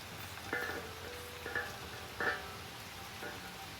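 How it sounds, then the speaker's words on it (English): Rain falls on wet sand and a concrete pad at a beach during a June storm, a steady soft hiss broken by a few sharp clinking taps at irregular intervals, close and moderately quiet. "There's the sand getting wet by the rain."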